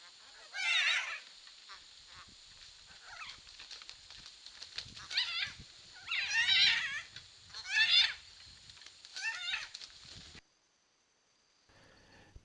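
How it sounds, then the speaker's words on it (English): A pair of blue-throated macaws fights inside a nest box, with harsh squawking calls that flare up in several loud bursts over a steady hiss, then fall almost silent near the end. "We only recorded these blue-throated macaw pair fights when the chicks were over 75 days old, close to fledging the nest."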